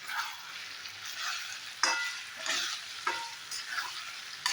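Brinjal curry for stuffed eggplant (bharli vangi) being stirred in a kadai with a flat spatula: a steady sizzle of frying runs throughout, broken by several scraping strokes of the spatula against the pan, with no talking.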